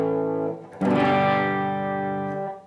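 Epiphone Les Paul electric guitar played through a distorted amp tone, a sustained chord that fades and is then struck again loudly, ringing with rich overdriven harmonics.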